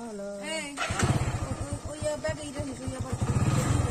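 A motorcycle ride in Telangana, the engine revving and rumbling steadily close by, with a person talking over the engine noise.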